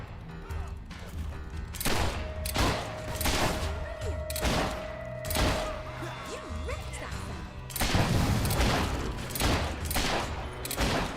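Gunfire in the video game Fable 3 comes as repeated loud rifle and pistol shots and fusillades in bursts. There is clattering, impacts and game ambience between them, with occasional voices in the mix.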